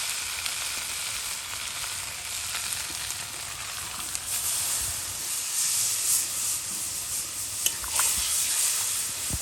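Water poured into a pan of already-fried vegetables sets off a steady, close sizzle and hiss, with stirring scrapes and occasional sharper pops over the continuous frying noise and no talking.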